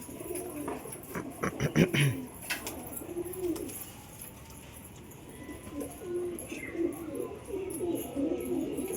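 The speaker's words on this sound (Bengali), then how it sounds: "ওই দেখুন আবার গুটাচ্ছে মাদি পায়রা দেখে।" A Lotan pigeon, a male, coos repeatedly at a female pigeon, producing low, rolling, throaty coos close by. Softer chirps and faint ambient noise sit underneath, with no talk.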